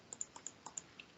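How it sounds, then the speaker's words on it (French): Keys clack on a computer keyboard during a podcast, about seven quick, faint, irregular clicks close to the microphone, with no voices over them. "je suis désolé pour les gens qui entendent mon clavier"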